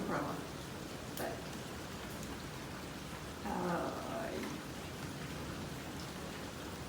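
Steady monsoon rain pours down as a dense, even hiss, with a slightly louder burst of drumming partway through.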